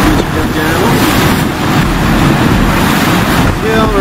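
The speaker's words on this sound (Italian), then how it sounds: "l'aria è molto bucherellata, quindi sono momenti, sono delle raffiche" Gusty wind roaring over the microphone with waves washing against a small 6-metre catamaran at sea, loud and continuous with constant rushing and buffeting.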